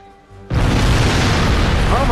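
A loud explosion bursts in the Star Trek Online video game, a sudden broad roar that starts abruptly after a quiet moment and rumbles on at full strength without fading.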